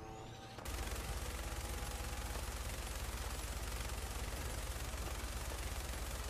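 Player's gun firing in a video game, a sustained rapid burst of gunfire starting abruptly after a short quiet moment and continuing loud and steady to the end.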